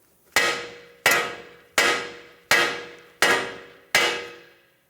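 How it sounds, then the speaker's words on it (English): Six sharp metallic hammer strikes on a 2012-2020 Ford Focus steering knuckle to free the tie rod, evenly spaced about once every three-quarters of a second, each ringing briefly before the next blow. "then use a hammer right here. That's going to break it free from the knuckle."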